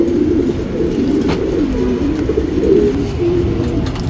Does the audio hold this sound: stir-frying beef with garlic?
no